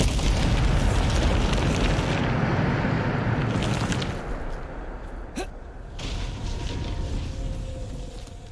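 A Bombarda blast spell goes off in Hogwarts Legacy as a loud rumbling boom that fades out over several seconds, with a sharp crack near the end and softer game ambience trailing after.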